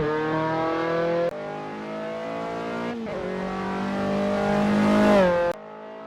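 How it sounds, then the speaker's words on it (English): A Lancia race car engine at full throttle holds a steady, loud, high-pitched roar, with a couple of quick shifts or throttle changes and a rising pitch near the end. "Mig's got the throttle wide open and the Lancia is taking it like a champ."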